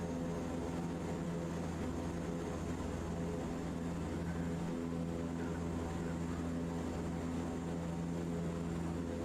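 An aircraft engine in Microsoft Flight Simulator 2024 at raised throttle for a climb during a firefighting flight: a steady, droning hum with strong tonal harmonics, constant and unbroken, no voices.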